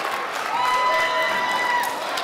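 A professional wrestling arena crowd erupts in sustained cheering and applause after a double crossbody, a steady roar filling the whole moment with a commentator's voice running over it.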